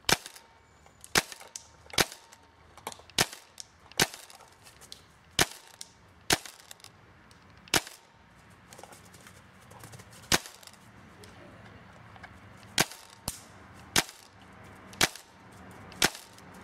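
Repeated sharp shots from a Tippmann M4 airsoft rifle firing 0.20 g BBs at about 350 fps, around a dozen crisp snaps spaced irregularly roughly a second apart, close and loud over faint background.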